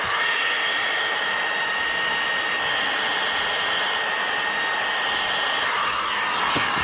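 A heat gun blows with a steady, loud, unbroken whoosh while heating the top edge of window tint film on a truck side window, continuous and close.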